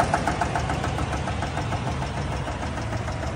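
A 2021 Yukon Denali's GM L87 6.2 liter V8 idles with a fault, a loud, continuous engine rumble carrying a steady rapid rhythmic knocking throughout, heard up close with no talk.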